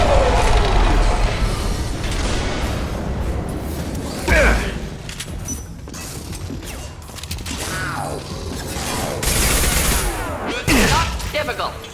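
Gunfire from a firefight in the video game Mass Effect 2, with repeated bursts and impacts crackling through a busy mix of game effects and voice lines.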